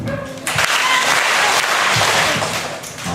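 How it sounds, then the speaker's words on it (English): A school assembly audience claps together in a loud, sustained burst that follows a short stretch of talk and then holds steady for a few seconds. "We're going to do 3 claps on my mark."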